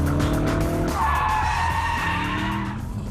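Loud tire squeal from a Porsche 911 4S or Audi RS4 cornering hard on a track, a sustained high screech over the roaring engine, close and continuous.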